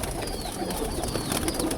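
Pigeons coo softly while feeding on grain from a clean tray, with a dense, steady background and no talk.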